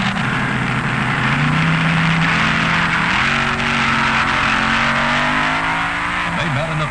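A loud, sustained dragster engine roar with shifting pitch at full throttle during a 1972 NHRA drag race run, steady and close throughout with a brief dip near the end.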